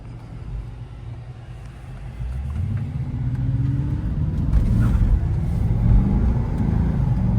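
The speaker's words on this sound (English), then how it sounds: "I was barely in the throttle, and this car just came alive in my hands." A 2003 Bentley Arnage R engine on the move, a steady deep rumble that swells gradually as the car pulls along, with road noise underneath and no voices.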